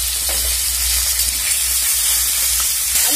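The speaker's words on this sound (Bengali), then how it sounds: "আলুর সাথে কুচিগুলো ভেজে নিচ্ছি" Chopped onions fry with potatoes in a pan for Bengali-style khichuri, giving a steady, close sizzling hiss that runs unbroken and alone throughout.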